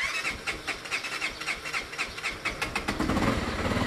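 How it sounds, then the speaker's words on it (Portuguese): A Honda CB 300 motorcycle engine cranks and sputters, struggling to start, with repeated uneven bursts that grow louder and rougher toward the end, close to the microphone. "Você vai dar partida nela aqui,"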